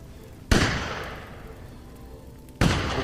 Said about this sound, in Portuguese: Tem um tiro aqui, hein?